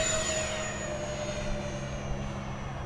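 An E-flite A-10 Thunderbolt II RC jet with twin 64mm ducted fans spools up for takeoff, a loud, steady whooshing whine with a high tonal edge that holds without pause throughout.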